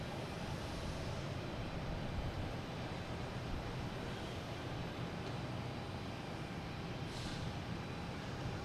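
A Southwest Boeing 737-800 jet airliner at Boston Logan Airport produces a steady, even roar that holds throughout, heard from a distance without any voices.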